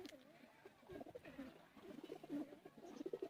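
Teddy pigeons kept by a fancier in Sialkot coo repeatedly, soft rolling warbles rising and falling in overlapping bursts, fairly faint with a quiet background of other birds and no clear talk.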